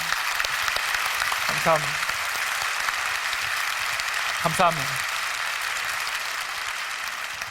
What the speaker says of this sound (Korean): 여러분 박수 한번 보내주시면 큰 힘이 될 것 같습니다